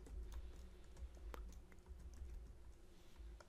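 Someone types on a computer keyboard, quiet irregular key taps at close range in a steady run, with no speech.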